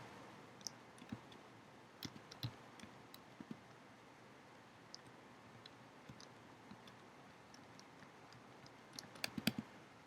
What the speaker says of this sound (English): Click on the box and type in Candy Crush Saga